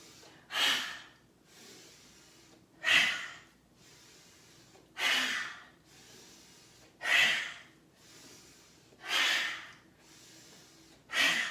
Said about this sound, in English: You can use that ha breath.